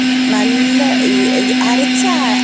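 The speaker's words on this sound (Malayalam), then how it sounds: "ഇത് കളഞ്ഞതിന് ശേഷം നമ്മൾ മിക്സിയുടെ ജാറിലിട്ട് ഇതിട്ടിട്ട് കുറച്ച് വെള്ളവും കൂടി ഒഴിച്ചിട്ട് നല്ലോണം ഒന്ന് അരച്ചെടുക്കണം" A kitchen mixer grinder whirs loudly and steadily as it grinds appam batter with added water, its constant motor drone running under a person talking.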